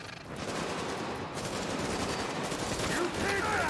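Sustained automatic gunfire during a street firefight in The Division on Xbox, a dense, loud, continuous rattle of shots that keeps going for several seconds with only brief dips.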